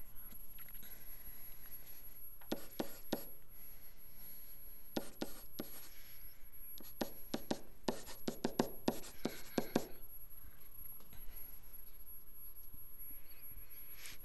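Pencil or pen scratching on paper while physics variables are written down, in short bursts of quick strokes separated by pauses, close and fairly quiet.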